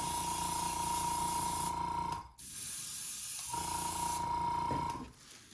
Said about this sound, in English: I'm going to spray right into the bill.